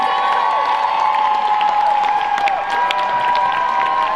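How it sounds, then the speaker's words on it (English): A large audience at an Office reunion panel at L.A. Comic Con 2019 applauds and cheers steadily, a dense wash of clapping that holds at full volume throughout. "Give them a great round of applause, everybody."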